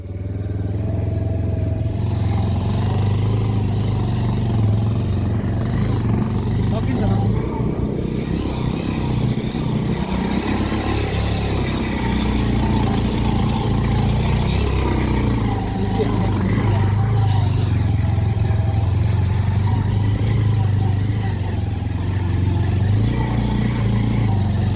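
A motorcycle rides at night on a rough, up-and-down hill road in Ilam, a continuous close engine drone with rattles and clatter over the bumps, and the rider talks over it.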